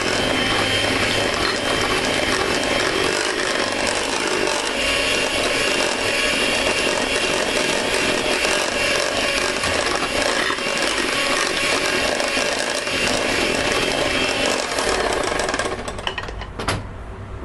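An electric mixer runs continuously through cake batter with sloe gin added, giving a loud, steady mechanical whir that cuts off near the end.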